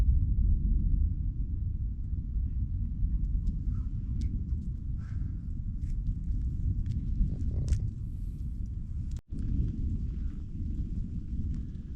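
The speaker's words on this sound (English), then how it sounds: "Thunder's keeping up." A low, continuous rumble of distant thunder rolls under light rain for a long stretch, with a few faint taps and knocks on top.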